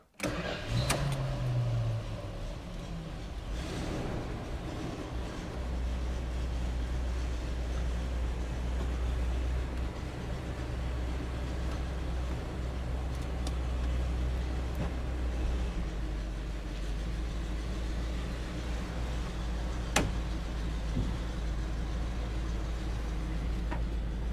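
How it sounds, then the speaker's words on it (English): Old car with a previously non-idling engine cranking and firing up, then running in a steady low rumble that holds for many seconds. "let's see if this thing will run and drive under its own power"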